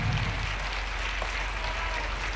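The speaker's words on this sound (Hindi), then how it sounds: "जोरदार तालियां, लंबी तालियां बजाओ जोर से" Steady, dense applause from a crowd at a religious gathering fills the whole stretch at an even, loud level without a pause.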